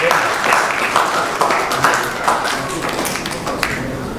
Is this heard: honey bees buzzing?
no